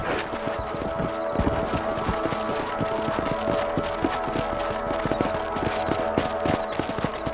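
Horse hooves clip-clop steadily beneath a rider in the Red Dead Redemption video game, a continuous, close, rhythmic trotting over ambient game sound.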